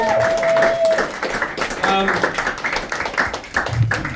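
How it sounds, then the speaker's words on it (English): Scattered clapping from an audience at a Ballyrags event, fairly light and uneven, mixed with voices talking and a brief tonal sound near the start. "give these guys another big round of applause for it"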